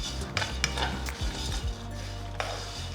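Roasted curry leaves and asafoetida powder mixed in a pan for curry leaves rice, a few crisp scrapes and light clinks of the spoon over a low steady hum, close and brief.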